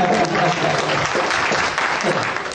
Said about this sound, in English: Yes, give them a hand